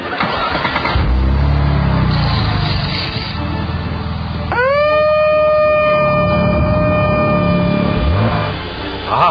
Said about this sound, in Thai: สัญญาณนั่นแสดงว่าทีมงานของเราพร้อมแล้วล่ะครับ